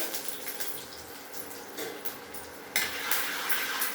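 Urad dal and curry leaves stirred into a potato filling for masala dosa in a pan, with quiet spoon scraping and a soft sizzle, then a brighter burst of frying near the end.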